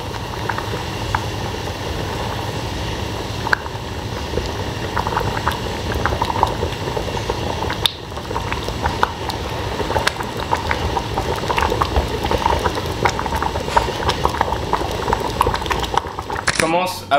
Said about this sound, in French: Commence à bouillir.